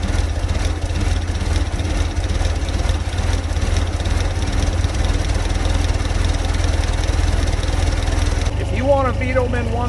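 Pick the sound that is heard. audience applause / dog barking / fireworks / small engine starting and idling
small engine starting and idling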